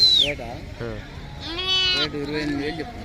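Several sheep at the Pebbair livestock market bleat loudly and close by, wavering cries overlapping one another, with voices talking in the background.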